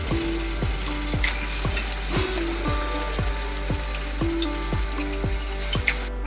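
Mutton goes into a pan of fried ginger-garlic paste, setting off a loud, steady sizzle punctuated by a regular series of sharp metallic clicks close by.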